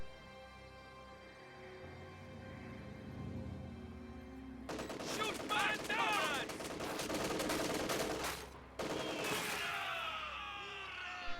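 Kubelwagen firing its mounted gun in a World War II strategy video game: sustained, dense bursts of automatic fire break out midway and continue, briefly cut off and resuming, over low game ambience.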